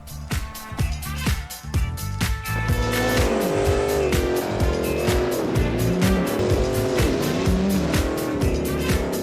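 Race cars in the BeamNG driving game roar and rev loudly with rising and falling engine tones, tire squeal and skidding, and sharp knocks from bumping contact near the start, all close and continuous.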